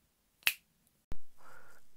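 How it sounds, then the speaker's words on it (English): A single crisp finger snap, close and sharp, followed by a brief thud and a short swelling tone, with no talking. "I'll snap my fingers and we'll be there outside HMV"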